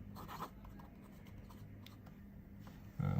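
Flexible extra fine fountain pen nib scratching across paper, a faint continuous scratchy rasp with small strokes and taps, close and quiet, ending with a louder rustle.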